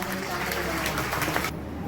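Loud, dense applause from a church congregation during a Hindi sermon, a steady roar of clapping that fills the short stretch and cuts off abruptly near the end.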